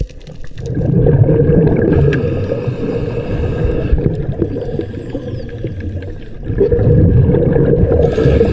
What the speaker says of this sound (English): You can probably tell by all the noisy bubbles.